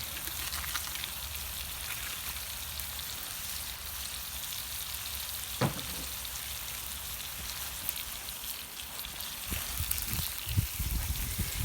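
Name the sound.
stirring shrimp in hot sauce on a kettle grill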